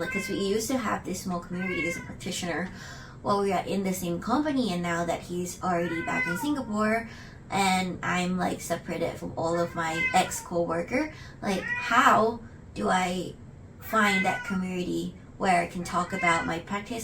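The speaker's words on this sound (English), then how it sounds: "that's my cat meowing" A pet cat meows repeatedly in a quiet indoor room while a person talks continuously over it, the cries blending faintly with the voice.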